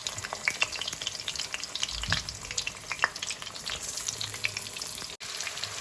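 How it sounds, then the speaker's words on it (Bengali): Potatoes for biryani fry in a pan with a dense, crackling sizzle, a steady close-up hiss with occasional stirring scrapes, broken briefly by a short pause near the end. "বিরিয়ানির আলুগুলো এই যে ভেজে নিচ্ছি।"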